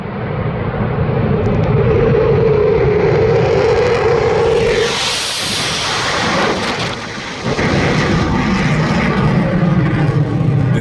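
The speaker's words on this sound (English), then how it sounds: "This Eurofighter coming straight at the person filming" A Eurofighter jet roars loudly as it approaches and passes close overhead, its broadband engine thunder swelling and shifting in pitch before a steep takeoff, continuous and powerful throughout.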